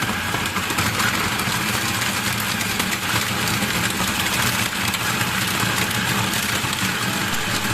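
A food processor grinds fish, garlic and ice for siomay, giving a constant loud motorized whir with a gritty, rattling edge that runs evenly from start to finish without speech.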